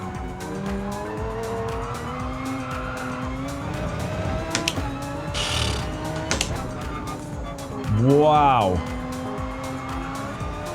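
A race car in a racing video game played on a Logitech wheel: a steady engine whine shifts pitch, and a sharp, rising tire squeal breaks out near the end, with a brief spoken exclamation over it.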